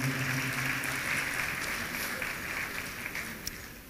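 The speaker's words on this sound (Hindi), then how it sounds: "एक बार जोरदार तालियां हो जाएं." At a 2015 Sufi music concert featuring Pakistani and Indian performers, a crowd gives sustained applause, steady and moderately distant, tapering slightly toward the end.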